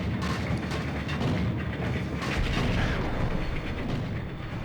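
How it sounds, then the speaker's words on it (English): A grenade explosion in the video game Max Payne makes a loud, sustained rumbling boom with crackling bursts, dense and continuous throughout. "Oh, God, he threw a grenade!"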